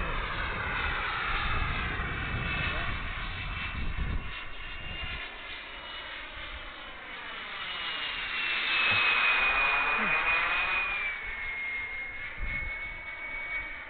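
Model jet aircraft in flight, its turbine whine swelling as it sweeps close past and then fading away, with a rising and falling pitch and a loudest point near the middle.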